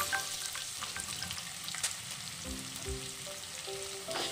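Chopped onions frying in mustard oil for a chicken masala dry, a steady broadband sizzle with a few scraping stirs and faint background hum toward the end, moderately close and without talk.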